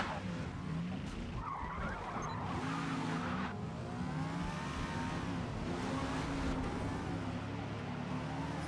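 A Camaro's tires skid and squeal through a crash in an A-Class race in the Forza Motorsport video game, with steady engine roar behind the sustained, loud screech.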